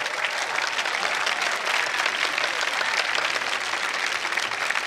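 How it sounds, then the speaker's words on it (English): Sustained applause from an audience at a yoga cultural performance, steady and dense throughout with no voices over it. "I would say another big round of applause for the Rishi Kumars."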